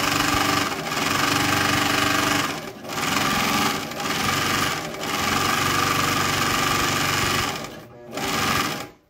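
A GN1-6D overlock machine runs almost continuously, loud and close, with a dense high whirr and a few brief pauses as it stitches and trims fabric.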